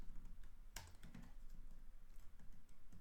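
Code being typed on a computer keyboard: quiet, quick, close keystrokes in an uneven patter, with one sharper key press standing out early.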